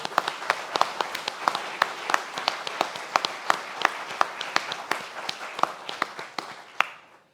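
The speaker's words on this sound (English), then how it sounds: "A huge round of applause." Applause from a gala audience at Midland Cultural Centre, heard as a steady wash of clapping with distinct sharp individual claps standing out in an irregular rhythm, fairly close, fading out at the end.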